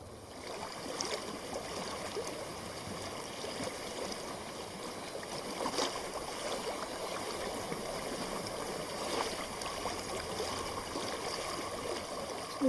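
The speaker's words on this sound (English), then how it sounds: "I hear water. Go to it." A flowing stream in the video game Hellblade: Senua's Sacrifice gives a steady, soft broadband rush of water, continuous and even throughout with faint gurgles, heard alone without voices.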